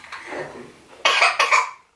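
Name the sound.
child coughing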